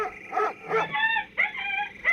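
A dog in a film soundtrack gives a few short yips followed by drawn-out, high whining howls, loud and close, with no other sounds around it.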